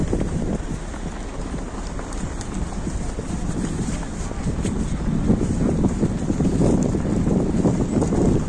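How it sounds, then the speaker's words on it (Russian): Strong cold wind buffets the microphone outdoors at a city rehearsal, a steady broadband roar with gusts swelling toward the end. "Холодище, ветрище."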